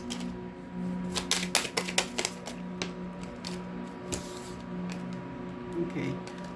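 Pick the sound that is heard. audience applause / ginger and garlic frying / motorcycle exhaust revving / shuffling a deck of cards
shuffling a deck of cards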